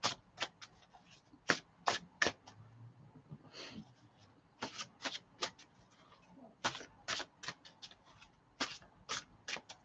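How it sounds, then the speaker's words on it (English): Tarot cards being shuffled close by, a run of crisp riffles and soft flicks in irregular bursts with short pauses, fairly quiet overall. "Keep shuffling these cards till Karina comes on"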